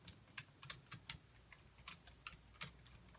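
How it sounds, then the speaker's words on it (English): A computer keyboard is typed on up close, with quiet, irregular key clicks in a steady rhythm over a short stretch. "Then I'm going to type it all out."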